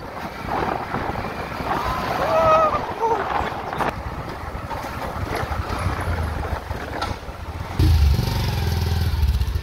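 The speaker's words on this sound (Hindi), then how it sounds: "हम लोग थोड़ा घूमने निकल चुके बाइक को लेके" A motorcycle rides along a jungle road in India with its engine droning under rushing wind noise and occasional voices, ending in a louder, closer burst of engine and wind.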